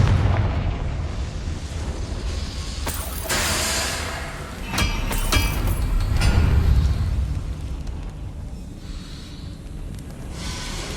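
A Confringo fire spell in Hogwarts Legacy bursts in heavy booming blasts, two sharp impacts close together mid-way, over a rumbling, busy battle din.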